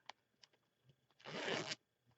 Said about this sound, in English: And it has a zipper